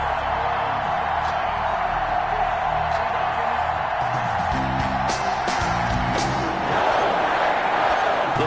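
A stadium crowd in the Madden 21 football game, Carolina Panthers versus Green Bay Packers, roars in a steady wash of cheering, swelling slightly louder near the end, with a voice talking over it.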